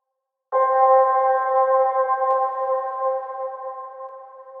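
A lofi guitar without Flux Mini processing plays one sustained, bright chord that rings steadily with a light strum partway through, heard alone after a short moment of silence.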